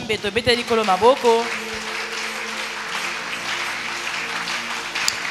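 Church congregation in Brazzaville applauding and acclaiming the Lord, loud sustained clapping and voices after an opening burst of excited shouting or singing, a dense continuous roar through to the end.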